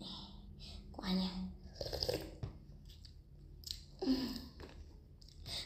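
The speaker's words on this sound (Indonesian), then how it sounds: "Oke, kita makan, bejek-bejek dulu biar meresap gitu." Breakfast being eaten with close, quiet chewing, soft crunches and mouth clicks in irregular bursts, with faint whispery voices and breathing in between.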